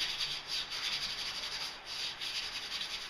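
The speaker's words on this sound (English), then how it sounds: "I'm going to wet sand that with a fine 3M sanding sponge" A fine 3M sanding sponge wet-sands a paint run in a steady, faint rhythmic rubbing, with repeated back-and-forth strokes close by.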